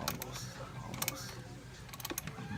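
A wrench tightens a fitting while a blow-off valve is installed on a 1993 Dodge Stealth R/T twin turbo, making quiet, close ratcheting clicks and metallic ticks in short irregular bursts.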